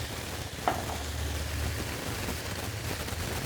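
Potato and carrot pieces hit a pan of well-fried spice masala and sizzle in a steady, even hiss that runs throughout, with one faint clink early on and no voices.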